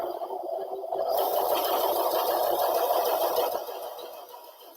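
A sewing machine stitches a fabric face mask, whirring in a rapid, steady burst that starts abruptly, runs for a couple of seconds, then eases off at close range.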